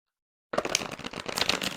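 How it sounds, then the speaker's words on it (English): Tarot cards riffle-shuffled after a half-second of silence, a close, crisp flurry of rapid paper flicks that holds steady to the end, with no talk. "Let's give them a shuffle."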